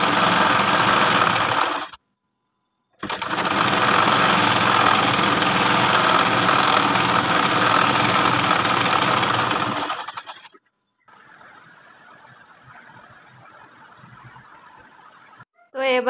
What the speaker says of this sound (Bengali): এখন আমি এই সাইড থেকে সেলাই বসিয়ে দিব।